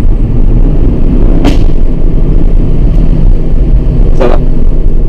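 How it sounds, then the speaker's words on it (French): Audi RS3 on the road with a loud, constant engine and tyre rumble, broken by two sharp exhaust pops about three seconds apart. "un petit pop and bang, ça passe très bien"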